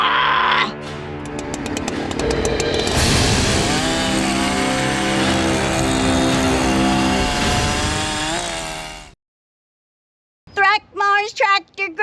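A chainsaw revs loudly and close by, holding a roaring whine with wavering pitch for about nine seconds. It then stops dead, and after a short silence a voice speaks.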